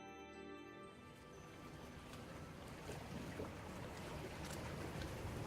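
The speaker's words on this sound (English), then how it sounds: "Can you hear the water?" Water moving outdoors in Mississauga, a soft, steady rush and wash heard faintly at a distance, with some wind noise and no voices.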